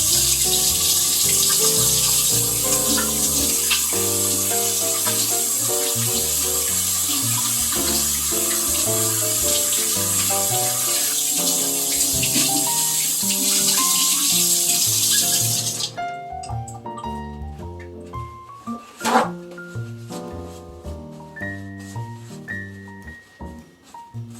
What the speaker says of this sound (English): let me just wash my hands and then we'll start.